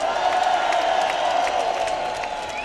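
Crowd at an outdoor political rally in London cheering, whooping and applauding for Irish patriots, a broad steady roar of many voices with scattered claps, sustained throughout and easing slightly near the end.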